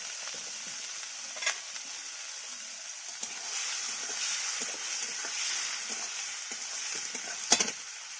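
Chopped onions sizzle steadily in hot oil in a pan, a constant bright frying hiss with a few sharp spatula scrapes and clicks, close and alone with no talking.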